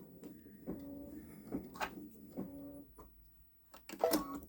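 A Babylock Solaris Vision embroidery machine works a securing stitch on a stretchy sweater, giving short bursts of mechanical whirring and clicking separated by pauses, fairly quiet and close, with no voices.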